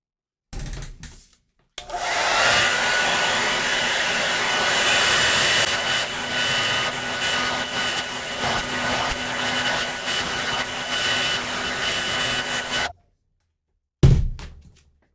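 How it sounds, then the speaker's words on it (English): Handheld hair dryer blowing hair, a loud steady whooshing roar that runs continuously for about eleven seconds before cutting off, with short handling bumps at the start and end. "First, I'm going to blow dry my hair."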